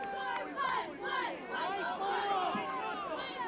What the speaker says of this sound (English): You still hear the crowd yelling over that call.